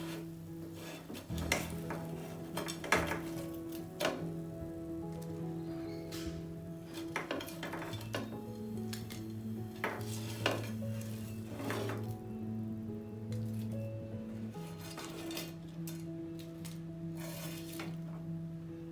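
Cutlery and utensil clinks against a pan as fried yam (suran) pieces are lifted out, a steady run of close metallic taps and scrapes over a faint continuous sizzle, with no talking.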